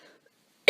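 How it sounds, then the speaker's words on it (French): A single sharp cough bursts out at the very end, loud and close, after near silence with only a faint murmur at the start. "j'ai éloigné le téléphone pour pas vous tousser dans les oreilles"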